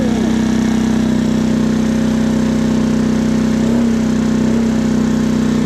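The engine of a PMZ50 pit bike, a Honda Grom clone, idles high with a loud, steady drone that holds an even pitch up close throughout.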